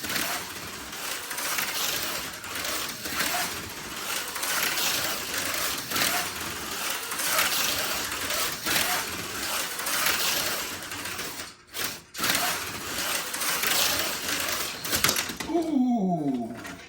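A fast T-chassis model car with an armature motor runs hard, giving a loud, rough, continuous mechanical whine and rattle that drops out briefly midway, then returns with a rising revving sweep at the end.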